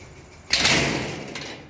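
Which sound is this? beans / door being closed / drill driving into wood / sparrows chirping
door being closed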